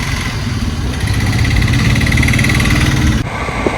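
Motorcycle engine running steadily while riding through a busy market road, a continuous close mid-pitched drone with a brief dip near the end and no talk.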